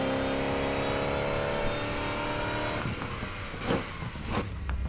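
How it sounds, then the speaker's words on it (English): A video game car engine with a centrifugal supercharger drones steadily with a whining, harmonic tone, then shifts into rougher bursts of revving and blips near the end. "the car sounds very weird with the centrifugal supercharger"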